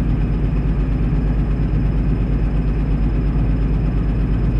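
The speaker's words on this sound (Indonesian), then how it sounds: "Injektor nomor 6 matikan lagi. Suaranya berubah." A Komatsu PC200-8 excavator diesel engine runs close by with injector number 6 cut off, a loud, steady low rumbling idle with a rough pulsing beat.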